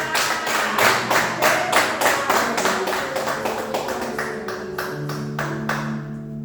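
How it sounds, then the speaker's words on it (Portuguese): A church congregation claps along in a steady, rhythmic beat during a Sunday gratitude service, with sustained musical tones running beneath the claps. "Aplauda o nome dele."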